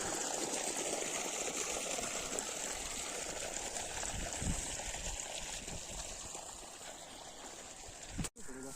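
Irrigation water flowing into a wheat field at night, a steady faint gushing and trickling wash that runs on without a break, ending with a brief thump.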